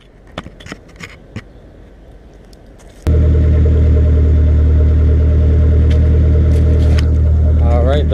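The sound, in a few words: loud red Suzuki engine while backing up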